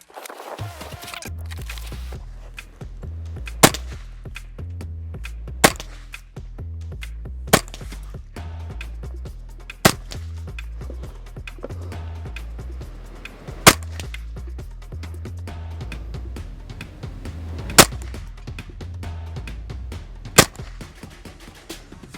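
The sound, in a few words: rifle shots fired at 2-inch targets, 20 to 70 metres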